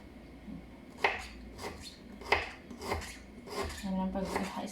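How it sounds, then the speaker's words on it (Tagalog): Knife slicing ginger on a board gives a few sharp cutting knocks spaced about a second apart, with light scraping and a faint background voice. "Yan pag slice ginger."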